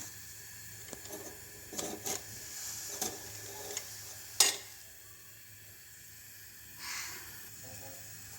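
A whole brinjal (eggplant) roasts over an open flame, giving a soft steady hiss and faint crackle, with a few light knocks and one sharper tap as it is turned.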